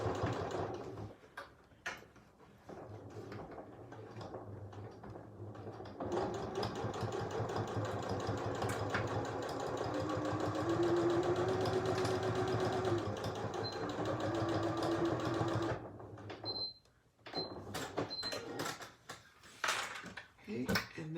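A sewing machine stitching the top piece of a fabric face mask, a steady close mechanical whir that stops and starts, with a person speaking now and then.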